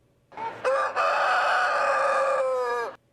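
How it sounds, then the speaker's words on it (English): A rooster crows loudly and close by at a crowing contest at the Minnesota State Fair, one long drawn-out call that rises and then holds before cutting off. "a good old-fashioned rooster crowing contest"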